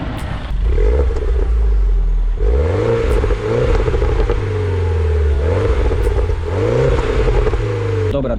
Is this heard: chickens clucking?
no